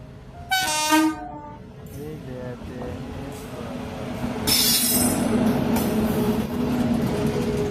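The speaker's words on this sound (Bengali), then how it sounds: "ট্রেন আইব, দাঁড়াই গেছে" A train rolls into a station and comes to a halt: steady rumbling railcars, a short high whistle or squeal near the start, and a brighter burst of wheel squeal as it slows, with faint voices in the background.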